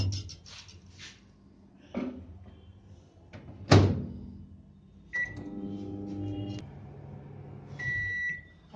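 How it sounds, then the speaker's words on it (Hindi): A microwave oven heating carrot halwa made with sugar and ghee: a door thunks shut, keypad beeps sound, then the oven hums steadily with a tonal drone before a beep, close by and without talk. "अब हम इसे 4 मिनट के लिए माइक्रोवेव में लगाएंगे।"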